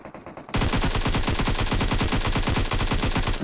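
Automatic gunfire in PUBG erupts after a half-second of quiet. A steady, rapid machine-gun rhythm of loud, evenly spaced shots then continues without pause.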